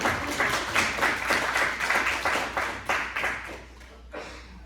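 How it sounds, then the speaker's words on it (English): A small audience at a STEM discussion panel claps in a steady round of applause that fades out over a few seconds, with no voices over it. "Let's get a round of applause, guys."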